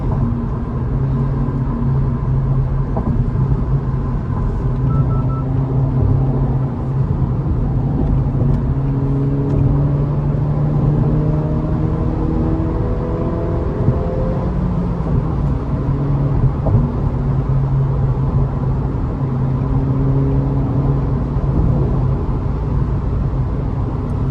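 A 2023 Acura Integra A-Spec with a 6-speed manual hums at steady, low revs around 3,000 RPM while driving, a continuous loud cabin drone with road rumble and a few subtle rises in pitch and no talking.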